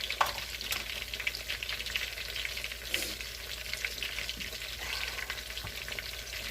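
Sweet plantains fry in a pan for a plantain lasagna, a close, continuous crackling sizzle with scattered sharp pops and a low steady hum beneath, no voices.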